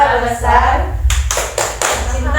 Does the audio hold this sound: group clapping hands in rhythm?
yes